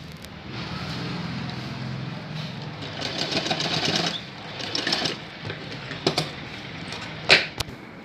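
A sewing machine stitches a baby box-pleat skirt in a steady, close mechanical whir, then turns into brief stop-start bursts with a few sharp clicks near the end.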